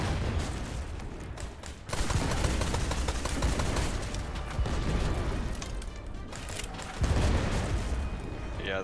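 Pirate ship cannons fire during a sea battle in the Blazing Sails game, a dense run of booming blasts and rumbling impacts under a constant roar, with people talking over the barrage.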